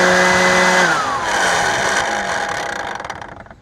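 A Kobalt 24V leaf blower with a fault runs loud and close, its whine dropping at about one second before settling into a rough, droning tone that fades out as it winds down.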